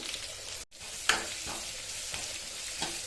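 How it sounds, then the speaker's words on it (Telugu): Onion and curry leaves frying in oil make a close, continuous sizzle, briefly cut off once, then returning with several sharp crackles and spatters over the steady hiss. "ఆనియన్ కరివేపాకు ఆయిల్ వేసుకుంటున్నామండి"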